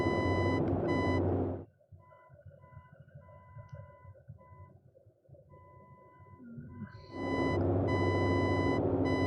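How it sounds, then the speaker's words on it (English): A steady navigation beacon tone in a Boeing 247D in Flight Simulator 2020 rings almost continuously, cut off for several seconds partway through by a low engine-like rumble with faint intermittent beeping. "this is almost a continuous beep, as you can hear"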